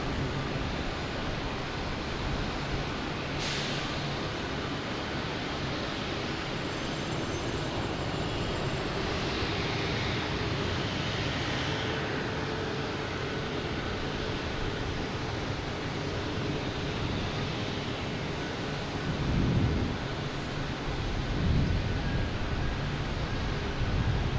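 An airliner takes off from Boston Logan Airport, bound for Frankfurt, with a loud, sustained engine roar that fills the whole stretch and swells slightly toward the end.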